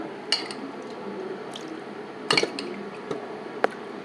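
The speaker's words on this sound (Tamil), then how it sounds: "இப்போ என்னென்னா நம்ம இதுக்கு தேவையான தயிரை விடுறோம்" Plain curd (yogurt), not sour, spooned and poured into a pot of cooked mixed-vegetable aviyal, giving a few soft wet squishes and plops close by, with quiet gaps between them.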